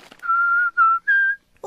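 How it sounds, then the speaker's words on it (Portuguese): A cartoon pig father whistles idly while reading a newspaper: three clear, sustained whistled notes in a short, cheerful phrase, alone and close. "O senhor está fazendo um som engraçado. Estou assobiando?"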